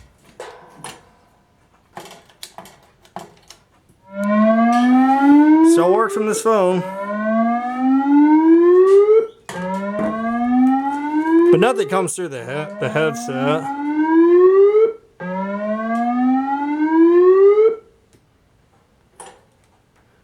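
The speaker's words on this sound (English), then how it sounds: "In fact, I could do the siren right now." Three long rising siren wails triggered from an intercom phone system, each sweeping upward for a few seconds, loud and close, with brief talk and clicks before and between them.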